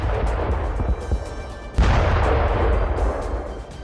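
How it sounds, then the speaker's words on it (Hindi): A guided bomb explodes on a house in Krasnopor, a Ukrainian soldiers' position; a continuous heavy rumble is split by a sudden loud, close boom, followed by a sustained roaring blast, with no voices. "टोही ड्रोन से रेकी करने के बाद यूक्रेनी सैनिकों की इस पोस्ट पर गाइडेड बम दागा गया"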